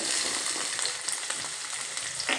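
Chopped onions frying in hot oil for upma make a steady, dense sizzle with crackling spits. The close, even hiss runs through the whole stretch with no talk.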